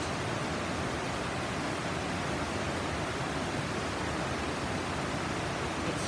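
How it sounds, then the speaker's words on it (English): A chain of mini waterfalls cascades through a shaded wooded valley at Golitha Falls in Cornwall, giving a dense, even, hissing roar of rushing water that is close and continuous with no voices. "you have a series of different mini waterfalls cascading all the way down and eventually to the South Cornish coast"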